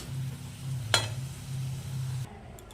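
Pointed gourds frying in mustard masala, a steady close sizzle with a low hum and one sharp clatter partway through, ending in near-silence; no one speaks.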